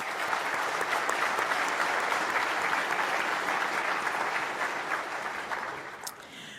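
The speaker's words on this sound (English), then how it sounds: "Please join me now in giving them a well-deserved round of applause." An audience at a conference opening plenary claps steadily for several seconds, the applause thinning out toward the end.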